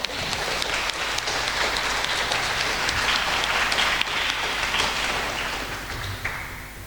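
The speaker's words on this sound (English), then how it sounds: "Please may we have a big round of applause for Mayuran" A concert audience gives a big round of applause for violinist Mayuran, a steady, dense wash of clapping that stays loud and even for several seconds before easing slightly at the end.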